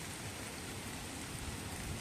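Heavy rain pours steadily on a farm by the sea, a dense, even hiss of drops drumming on surfaces with no pauses and no voices.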